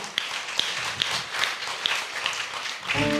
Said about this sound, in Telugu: అందరూ కూడా గట్టిగా చప్పట్లు కొట్టండి